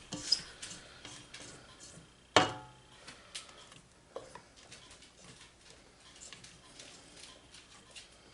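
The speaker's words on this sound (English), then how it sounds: "gonna scrape down the sides here." Spatula scraping the sides of a bowl of chocolate cake batter, giving soft, quiet rubbing and rasping strokes with one sharper knock, fairly faint and close in a home kitchen.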